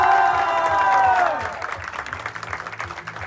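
A New Year party crowd applauds the kitchen staff, with a burst of clapping and cheering that fades into scattered claps and voices.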